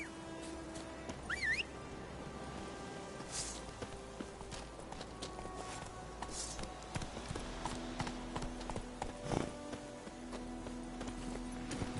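Roach the horse from The Witcher 3 clip-clops along at a steady walking pace, hoofbeats close and even over an outdoor game ambience with occasional birdsong; no speech.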